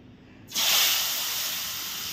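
Mixed ingredients for a Janmashtami bhog drop into a hot pan, setting off a sudden loud, close hiss that holds steady as they fry, with no talking.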